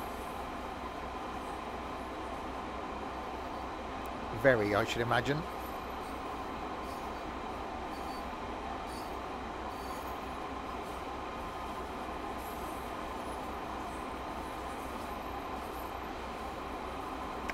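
A train in Train Sim World 2 coasting downhill on a West Cornwall local route, with a steady low rumble of wheels on track, a brief squeal midway and a voice talking over it at times.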